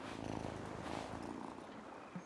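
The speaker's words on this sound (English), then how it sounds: "Listen to that purr." A petted cat purring in the video game Wylde Flowers, a steady soft rumble running continuously under broadband game ambience.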